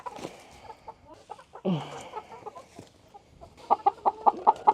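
Chickens cluck nearby in short, uneven bursts, with one louder squawk partway through and a quick run of sharp clucks near the end.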